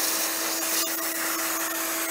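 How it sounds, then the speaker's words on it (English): Loud, steady whine of a vacuum cleaner held over a hole in an RV wall to suck a string through, a constant high-pitched roar with slight flutters as the suction shifts. "So I have my vacuum here, and I'm just going to hold it over this hole and cause a suction to pull that string down."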